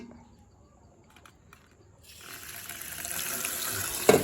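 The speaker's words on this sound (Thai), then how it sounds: "ล้างน้ำนะฮะล้างใบให้สะอาดนะครับ" Kratom leaves rinsed under a running tap; quiet handling at first, then a steady, close hiss of flowing water takes over for the second half, with a brief clatter near the end.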